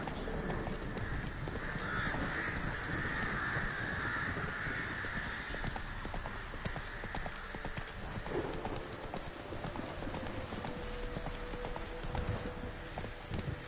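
Hooves clip-clop steadily as a horse gallops in The Witcher 3: Wild Hunt, the rhythmic hoofbeats running throughout with a brief whinny and faint game ambience underneath.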